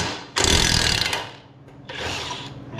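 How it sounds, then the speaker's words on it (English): Pneumatic impact wrench hammering on a stuck nut of a cow sprayer, two loud bursts of rapid rattling separated by a brief pause, close and alone. "We'll hit this with the impact and it'll either break the nut off"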